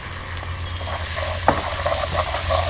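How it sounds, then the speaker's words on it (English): Onions fry in a pan with lemongrass for a Mussaman curry, giving a steady close sizzle with a few soft stirring scrapes and small pops. "And onions. Just going to let them fry off for a couple of minutes."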